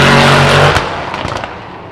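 A car engine roars loudly up close, then falls away into a short string of pops and crackles as it fades.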